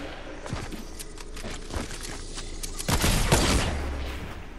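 Gunfire from a sniper rifle in a video game, with sharp shots scattered through the clip and a louder burst near the end, over steady game background noise.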